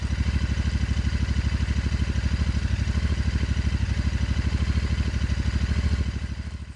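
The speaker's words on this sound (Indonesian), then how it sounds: "Adit mengangguk, lalu menarik gas, dan motor melaju pelan meninggalkan rumah kosong" A motorcycle engine chugs steadily in an even, low-pitched rhythmic putter, close and loud throughout, easing slightly at the end as it moves off slowly.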